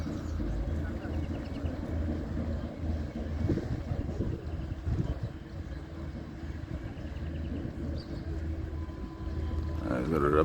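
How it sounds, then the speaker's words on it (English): Steady wind gusting over a lake in Uganda, heard from a boat on the water, with continuous low rumbling noise and faint water sounds throughout. "There's quite a bit of wind on the water."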